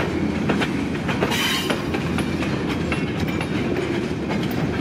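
A long freight train rolls through a rail yard close by, its cars clattering over the joints in a steady rhythmic stream, with metallic squeals rising above the rumble and wind noise underneath.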